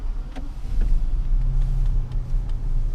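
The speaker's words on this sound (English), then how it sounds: "this morning is the very first cold start ever in this car" A BMW 760Li 6.0L V12 engine idles after a cold start with a deep, steady low rumble, close by, with a few faint clicks and knocks over the hum.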